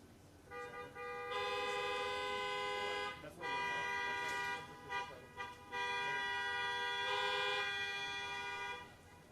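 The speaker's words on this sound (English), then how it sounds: "please honk your horn and thank you for that service" Many car horns honk together at a Veterans Day gathering, a layered sustained chorus of tones with brief dips and restarts, moderately distant, over faint background noise.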